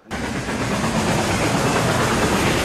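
A train carrying nitroglycerin in a Legend of Zorro film scene makes a loud, steady, dense rumble of rolling wheels and machinery that fills the scene without pause.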